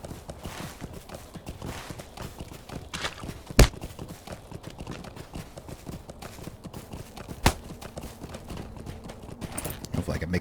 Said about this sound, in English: Hopefully I can make it through without getting knocked off my horse.